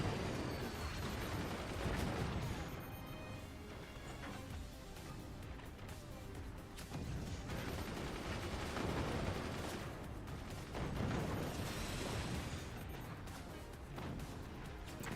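Mortar fire lands on enemy mortars in the physics strategy game Forts: a sustained wash of thuds, crashes and explosions rolling in uneven waves, dense and busy throughout.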